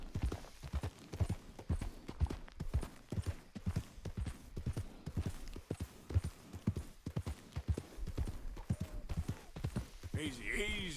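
A horse in Red Dead Redemption 2 walks along, its hooves clip-clopping in a steady, fairly close rhythm, with a brief whinny-like call near the end.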